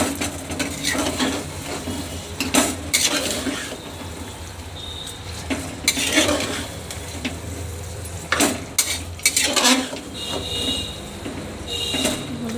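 Mutton being stirred and mixed in a pan, with irregular scraping and clattering strokes of a utensil against metal over a steady background hum, loud and close throughout.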